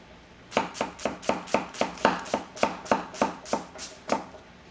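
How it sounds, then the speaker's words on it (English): A Sakai Takayuki Damascus gyuto knife chopping through an onion on a cutting board, about fourteen crisp, evenly spaced strokes in a quick steady rhythm, close and clear with no talk. "Just drops right through that onion."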